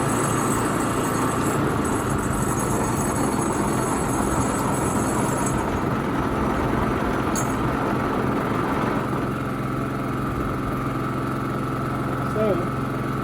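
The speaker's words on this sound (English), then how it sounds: "this is a pretty quiet generator" A budget inverter generator runs in eco mode, a steady, fairly loud mechanical drone that holds evenly from start to finish with little change in level.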